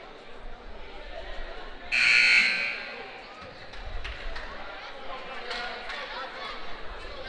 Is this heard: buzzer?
yes